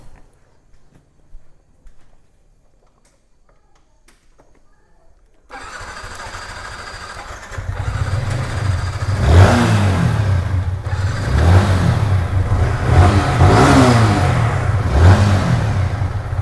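A used motorcycle with about 12,000 km on it in a budget bike showroom starts up after near silence, settles into a close, loud idle, then is revved in repeated swelling bursts.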